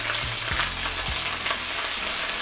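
Garlic, ginger and red chili flakes frying in hot oil in a wok, a steady close sizzle with a few stirring knocks, no talking.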